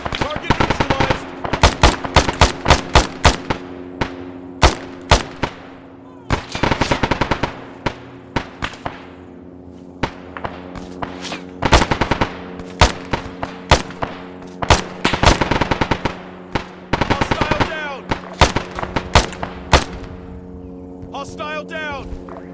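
Dense ArmA 3 firefight with rapid machine-gun bursts and single rifle shots cracking in close and distant volleys throughout, with shouted squad callouts mixed in.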